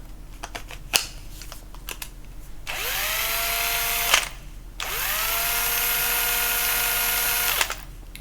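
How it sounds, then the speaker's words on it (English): Small 12-volt cordless drill spinning up in two runs of a few seconds each, whirring steadily at close range after a rising start, with light clicks and handling taps in between. "my intention with that little drill is to keep a pre-drill bit in it"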